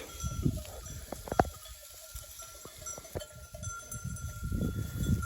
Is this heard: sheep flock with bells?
yes